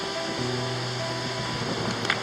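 Ocean waves rush in a steady, broad wash around a sailboat running with building following seas off the Jersey coast at night, with a faint low hum beneath and a brief splash near the end.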